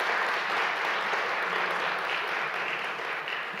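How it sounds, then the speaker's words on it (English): Sustained audience applause at an awards ceremony, an even, fairly distant wash of many hands clapping that holds steady throughout. "I would like you to all give her a round of applause in her absence"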